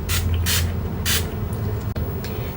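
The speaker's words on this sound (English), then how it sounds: "you just lock it in with your makeup spray again" Several short, loud hissing sprays from a makeup setting spray bottle, each lasting a fraction of a second, separated by brief pauses.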